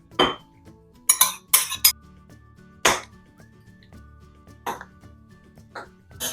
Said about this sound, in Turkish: Ve sosu ılık patateslerle karıştırıyorum.